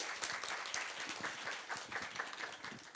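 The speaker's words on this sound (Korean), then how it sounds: "큰 박수로 모시면 감사하겠습니다." A Korean talk-concert audience at a KOICA career event applauds to welcome the agency's chairperson, a dense, steady patter of many hands clapping throughout, moderately loud with no voices over it.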